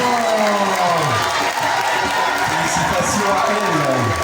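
Crowd cheering and applauding at an award ceremony for dictation and math contest winners, a loud, dense wash of claps and shouts with voices mixed in throughout.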